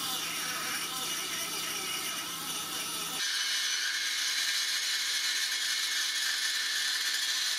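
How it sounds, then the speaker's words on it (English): A pencil grinder cuts into brass on a sword build, first a rougher grinding whir, then a steady, loud, high-pitched whine that runs on without pause. "Pencil grinder is actually way faster at removing this brass material for whatever reason."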